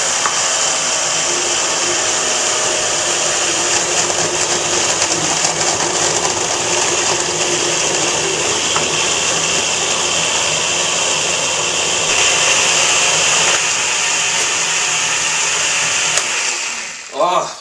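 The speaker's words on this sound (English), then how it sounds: "Make sure all the vegetables are getting pureed in there" A countertop blender runs loud and steady, pureeing raw vegetables and tomatoes into a vegetable spread, its motor whine holding constant for many seconds before cutting off abruptly at the end.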